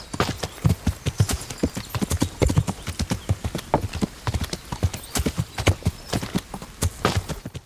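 Horse hooves clip-clop steadily on a road in Kingdom Come Deliverance, a brisk, even rhythm of crisp hoofbeats up close that continues throughout, loud and clear with a faint bed of ambient sound.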